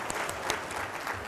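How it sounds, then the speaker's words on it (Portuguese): Applause from the audience at a sales talk, a steady patter of many hands clapping at a soft, even level, with no one speaking. "uma salva de palmas para essas pessoas, por gentileza"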